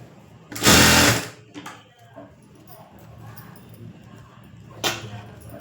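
A sewing machine stitches a hemming strip on cloth in two close bursts: a loud run of about half a second, then a brief second burst a few seconds later, with quiet room murmur in between.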